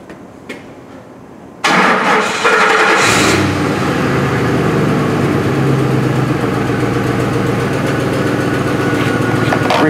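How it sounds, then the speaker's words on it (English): A 2004 Ford F-150 pickup with a 5.4L engine and a stall/no-start fault, its fuel pump grounded by hand, cranks and fires at about two seconds. It then settles into a loud, steady idle with no talk. "I'm going to connect this lead up and hurry up and start this truck."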